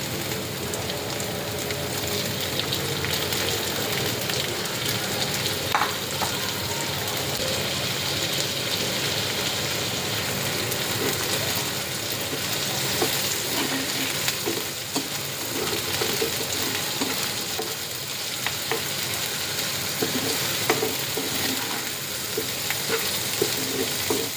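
Rohu fish belly fries in hot oil with onion and green chili, a dense continuous hiss and crackle with occasional stirring knocks, close and steady throughout with no talking.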